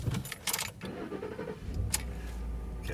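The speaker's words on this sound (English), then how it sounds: "You're in reverse. You can't start car in reverse." A car is started with a short cranking sputter that settles into a steady low idle rumble, close by, with a light jangle of keys before it.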